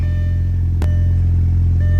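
A car engine is held at roughly 2,000 to 3,000 RPM while warming up to purge air bubbles. It makes a loud, close, continuous drone with one brief click partway through.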